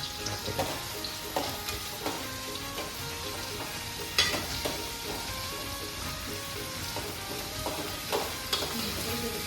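Onions, tomatoes and whole green chillies sizzle and fry steadily in a pan, with a spoon clinking and scraping against it every few seconds. Nobody speaks.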